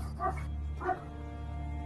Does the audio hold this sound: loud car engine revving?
no